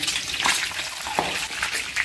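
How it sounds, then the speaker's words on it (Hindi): Eggs fry in oil in a pan for an egg curry, sizzling and crackling in irregular bursts at moderate loudness near the mic, with no voices. "फ्राई तो बढ़िया हो रहा है दोस्तों इसमें नहीं टूटेगा"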